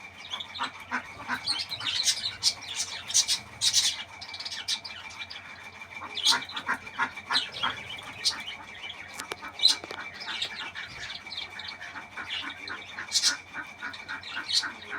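Pet birds kept in a large home aviary squawk and chirp in repeated bright, harsh bursts that sound fairly close, over a steady background of chatter from many birds.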